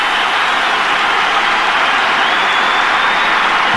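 A stadium crowd at a 2007–08 Italian championship match between Milan and Reggina roars for substitute Pato coming on, a loud, dense, unbroken wall of cheering throughout.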